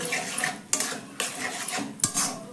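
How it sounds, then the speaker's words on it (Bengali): Raw mango pieces stirred in oil with a spoon over a medium-low gas flame, giving a few distinct metallic clanks against the pan over a faint, soft background. "দিয়ে ভালো করে নাড়াচাড়া করে এই আমটাকে তেলের সঙ্গে একটু ভেজে নিতে হবে,"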